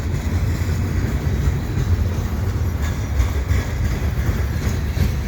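CN and CP freight trains running at Lachine station in winter make a steady low rolling rumble with slight surges and some wind buffeting, and nobody speaks.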